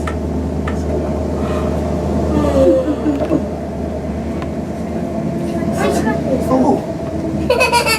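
A train pulls into Rugeley station, its steady low rumble running throughout while a loud platform announcement plays over it and brief squeals of brakes rise near the end.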